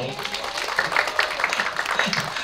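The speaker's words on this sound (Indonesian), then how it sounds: "Tepuk tangan dong" Audience applause at a book launch for Ziggy Zezsyazeoviennazabrizkie's book, a steady wash of clapping from a crowd in an indoor hall, sustained and fairly even throughout.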